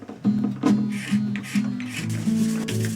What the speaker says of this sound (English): it's gonna take a 1200 grit sandpaper and smoothen it out